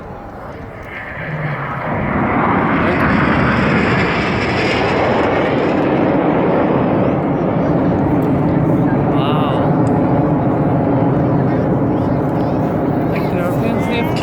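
The Red Arrows jets of a flying display at an air show roar loudly overhead, a broad rushing engine noise building quickly and holding steady, with a commentator talking over it.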